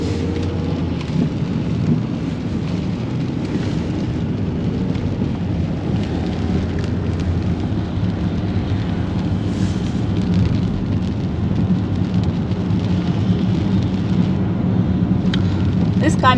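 Steady rain falls outdoors along a river on an evening walk in Kajaani, Finland, a dense continuous hiss that stays even and close throughout with no pauses.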